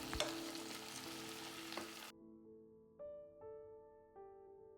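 Potatoes fry in a covered pan with a soft, steady sizzle for about two seconds, then cut off abruptly to a few gentle sustained musical notes.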